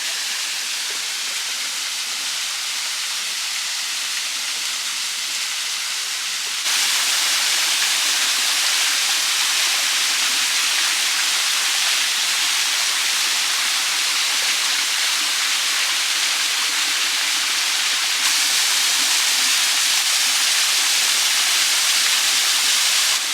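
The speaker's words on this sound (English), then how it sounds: "we seem to be making a habit of coming to waterfalls at low flow" A waterfall running at low flow at a park in Paraguay, giving a steady, broad rushing hiss of falling water that holds constant throughout, slightly louder in stretches, with no voices.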